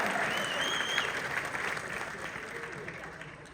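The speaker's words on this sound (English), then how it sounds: "they deserve another round of applause" Crowd applause at the Queen Mary's Dark Harbor Midsummer Scream event, a dense, steady patter of many hands that fades slightly toward the end, with a couple of faint whistle-like tones above it.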